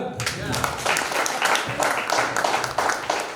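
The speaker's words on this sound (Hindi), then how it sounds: "क्या ताली नहीं बजेगा?" A seated audience at a gathering breaks into clapping, moderately loud and uneven in bursts, mixed with voices talking over and around it.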